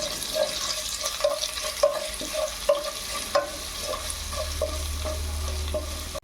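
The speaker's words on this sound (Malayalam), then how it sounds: "ഇഞ്ചി വെളുത്തുള്ളി പച്ചമുളക് കറിവേപ്പില നന്നായി ഇളക്കി കൊടുക്കുക" Ginger, garlic, green chili and curry leaves stirred in oil in a pan, with regular spatula knocks and scrapes over a soft sizzle and a low hum rising toward the end.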